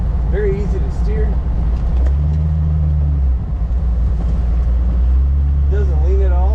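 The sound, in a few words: 1932 Ford Roadster engine and exhaust while driving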